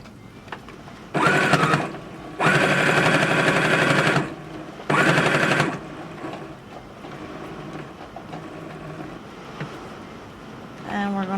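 A sewing machine stitches fabric for reusable makeup wipes in three loud, rapid mechanical bursts of stitching separated by quiet pauses, with a faint voice in the background.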